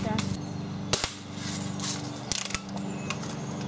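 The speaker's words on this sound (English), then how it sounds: "Alex, you want to shoot it a couple more times with the BB gun?" A Red Ryder BB gun fires in a backyard at a monitor target, two sharp close cracks with mechanical clicking and whirring around them over a steady background hum.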